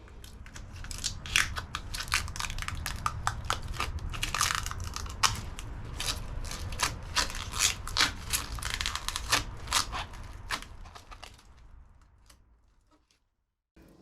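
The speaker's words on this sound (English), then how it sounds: "to peel the protective plastic from sheets of aluminum" Protective plastic film peeled from aluminum sheets for a car's sheet-metal floors: a steady crinkling, crackling rasp with many sharp ticks, fairly close, continuing for about eleven seconds before stopping into near silence.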